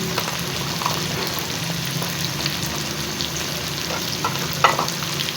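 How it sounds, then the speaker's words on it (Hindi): Chicken sizzling and frying in a pan while nihari is being made, with a steady, close, moderately loud crackle that persists throughout, punctuated by occasional sharper pops and stirring scrapes. "चिकन वाइट होना शुरू हो गया है, मतलब ये कि ये भून चुका है"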